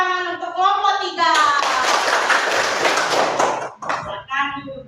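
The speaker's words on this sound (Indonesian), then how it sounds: "beri tepuk tangan untuk kelompok 3" A classroom of children claps for a presenting group, a brief loud burst of hand clapping between a teacher's voice and children's chatter.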